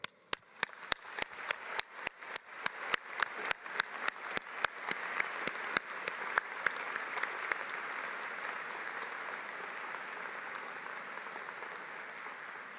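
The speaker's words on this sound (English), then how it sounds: "as you acknowledge them with a clap" A commencement ceremony audience applauds, beginning with a few loud, close individual claps that quickly swell into dense, sustained clapping from a large crowd, steady and even through the end.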